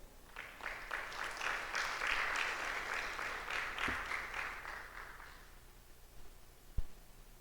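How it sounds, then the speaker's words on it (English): Audience applause greets a speaker at a heritage symposium, a modest room's worth of clapping that swells, holds and fades out within a few seconds, followed by a couple of soft bumps and near-quiet. "Please give a round, warm of applause and welcome to Dr. Singh"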